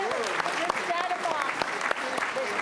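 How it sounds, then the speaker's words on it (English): An awards-ceremony audience claps steadily for a scholarship honoree, dense continuous applause with scattered voices and talk mixed underneath throughout. "Let's applaud Anastasia for her remarkable achievements."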